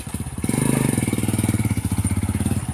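A motorcycle engine runs close by with a steady, rapid chugging pulse, idling loudly throughout with no voices.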